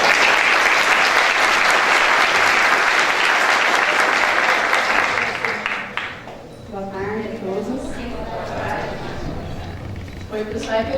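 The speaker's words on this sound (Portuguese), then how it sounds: "Vamos dar uma salva de palmas para Priscila Gonçalves e Débora Cebriano" A roomful of people applauds two presenters at an in-person session on open educational practices. The clapping is dense and steady for about five seconds, then fades as a voice starts talking over the last few claps.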